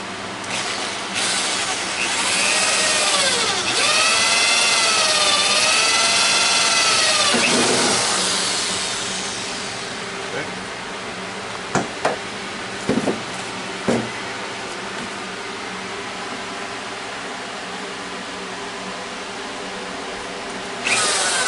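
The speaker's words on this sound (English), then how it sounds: "We're going to drill this a little bit bigger." Power drill boring holes into wood for a gazebo bird feeder, a loud whining spin with rising and falling pitch for several seconds, then winding down to quieter handling knocks and brief taps.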